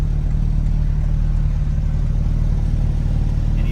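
A Porsche Boxster Spyder RS (982) heard from the passenger seat under full throttle, its engine a loud, dense, steady low drone filling the cabin without a break.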